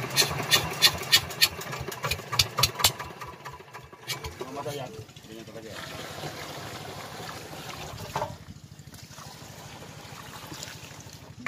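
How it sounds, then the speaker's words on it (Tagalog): A malfunctioning power sprayer engine used for spraying insecticide and fungicide on an onion field runs with a steady, rough drone under nearby talk, with some irregular knocks early on. "ang hirap na panda rin itong makina, nagluko na naman"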